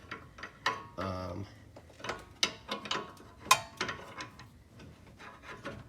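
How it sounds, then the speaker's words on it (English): A small pry bar works a stuck rubber bushing out of a BMR vertical link on a 2018/19 Mustang GT, giving a run of short scraping and ratcheting knocks and creaks with a brief rubbery squeal, close and moderately loud. "Yeah, little pry bar. And out it almost comes."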